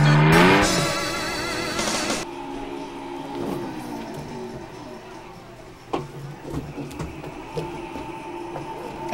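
Car engine revving in a racing video game played on a home-built arcade cabinet, a loud synthetic rising whine at first that drops into a steadier engine drone, with scattered clicks and knocks later.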